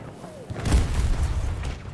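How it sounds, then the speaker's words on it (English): A vehicle blown up during Battlefield 2042 combat gives a deep, rumbling boom that swells and lingers, mid-distance, amid scattered gunfire-like pops and faint background noise. "Vehicle just got blown up."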